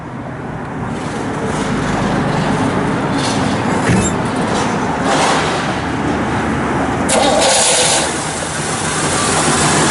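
A 1964 Pontiac LeMans convertible with stock-type exhaust runs close by, its engine idling at a steady rumble that swells slightly in places, with no one speaking.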